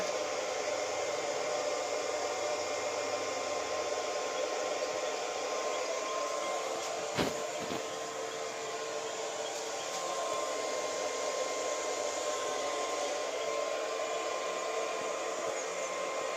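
A 4000 W BLDC solar pump motor runs on AC/DC power with a constant, even whirring hum and broadband hiss throughout, holding steady apart from one brief click.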